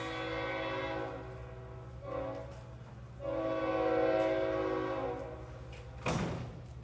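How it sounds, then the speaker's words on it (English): A train rumbles past with a sustained, droning horn blast that swells and fades in tones, followed by a sharp clank near the end, heard from a moderate distance with no talking. "I decided I'm going to keep track of when the train's coming."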